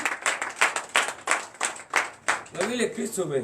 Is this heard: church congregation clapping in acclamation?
yes